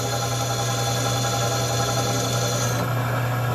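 Drill press boring through steel lubricated with motor oil, a steady loud grinding rasp with a constant motor hum running throughout, close up and alone.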